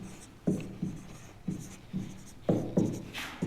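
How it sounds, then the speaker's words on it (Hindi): A pen scratches a chemical equation onto paper, making soft, close tapping and scraping strokes at an uneven pace, with about seven distinct stroke bursts in a quiet room. "चलो भाई लिख देता हूँ।"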